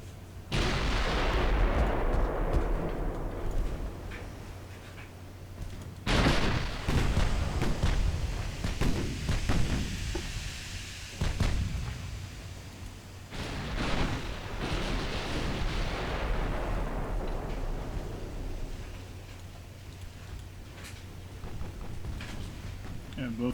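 Battleship gunfire in the naval game Ultimate Admiral Dreadnoughts, set in a 1920 German battlecruiser action: heavy booming salvos with long rumbling decays, repeated several times at irregular intervals, with a voice talking over parts of it.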